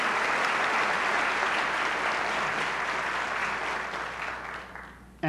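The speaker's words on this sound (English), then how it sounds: "I'm going to applaud that one." Applause from an audience at a university convocation ceremony fills the hall, a dense steady clapping that slowly fades over several seconds.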